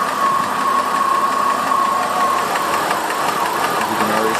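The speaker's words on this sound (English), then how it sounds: "Pretty smooth until it gets down to a low idle." Rough low idle from the engine of a 2002 Ford Escape, a steady mid-pitched engine drone with an uneven, knocking stumble running through it, close and continuous with no talk.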